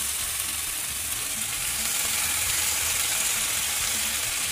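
Steady, loud sizzling of tomatoes and peppers frying in a hot pan, an even crackling hiss throughout with no voices.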